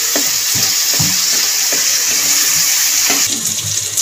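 Grated tomatoes with salt fry in a pan, a bright continuous hiss close up, with soft knocks and scrapes from stirring recurring roughly every second.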